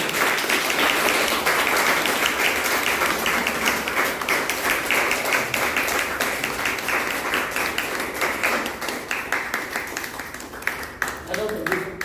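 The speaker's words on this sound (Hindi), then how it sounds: "एक जोरदार, शानदार और धमाकेदार ताली से उनका स्वागत करते हैं" A hall audience claps loudly to welcome a speaker onto the stage at a business gathering, a long sustained burst of applause that slowly thins toward the end.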